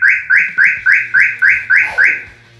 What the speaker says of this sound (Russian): Дожидаемся 12 писков.